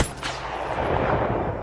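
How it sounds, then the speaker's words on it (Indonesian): Gunfire in an action film scene: a sharp, loud shot bursts at the start, followed by rumbling, echoing blasts that continue to the end. "TJ berhasil menembak mereka dari jarak jauh"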